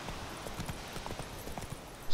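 Hooves clip-clop in a quick, even rhythm, moderately faint, a horse trotting along with no talking in the video game The Witcher 3.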